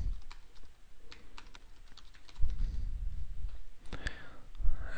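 Quick keystrokes on a computer keyboard as a page title is typed into a website builder, rapid soft clicks in a steady run, close but fairly quiet over some background noise.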